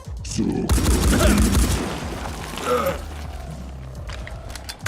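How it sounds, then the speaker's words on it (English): Gunfire rattles in the Phoenix Point turn-based strategy game: a dense burst of rapid shots from soldiers and a turret, then a short pause and a final sharp shot at the end. "Lots of return fire shots, including the turret."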